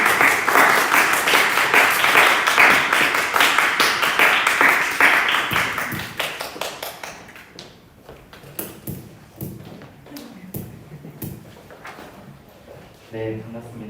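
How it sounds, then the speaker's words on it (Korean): A church congregation at a young adults' Sunday service bursts into loud, dense applause to welcome the pastor. The clapping holds for several seconds, then tapers off into scattered claps as a voice begins speaking. "뜨거운 박수 한 번만 부탁드립니다"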